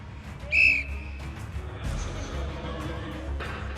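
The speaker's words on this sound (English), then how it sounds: "On the whistle." A referee's whistle blows once, short and shrill, to start a strongman event, followed by crowd and arena noise.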